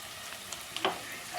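Onions fry in oil seasoned with salt and coriander powder, giving a faint, steady sizzle with a couple of brief stirring scrapes near the end.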